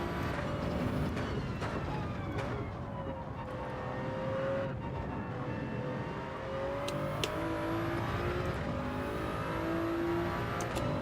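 Gr.3 race car engine in Gran Turismo 7 on the Deep Forest circuit holds a steady high-pitched drone with rising and falling revs and brief gear-change dips, continuous and fairly loud throughout, with no talk.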